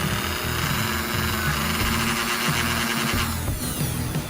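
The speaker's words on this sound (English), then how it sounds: "I got my Dremel out. Let's go ahead and address the shoes." A Dremel rotary tool grinds the pickup shoes of an Aurora slot car, a steady, close, high-pitched whine with a rough grinding texture that changes tone briefly near the end.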